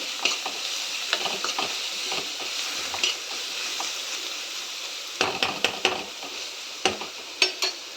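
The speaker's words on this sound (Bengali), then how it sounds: "এটা ততক্ষণ ভাজবো যতক্ষণ রসুনের কাঁচা গন্ধটা না যাবে।" Ground garlic paste fries in a pan with a soft, steady sizzle. Sharp stirring taps and scrapes punctuate it, growing more frequent and louder in the second half, with no speech.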